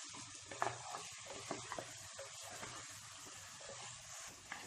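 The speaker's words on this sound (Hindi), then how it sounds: "अब हम इसमें मटन टिक्का डाल देते हैं। इसे डालने के बाद इसे हम अच्छे से मिक्स कर लेते हैं।" Mutton tikka pieces being stirred into masala in a pan, a quiet, steady sizzle with soft scraping and a few brief clicks of the spoon.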